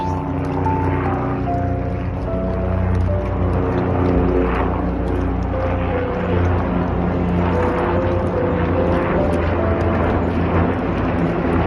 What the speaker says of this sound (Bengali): হেলিকপ্টার উঠছে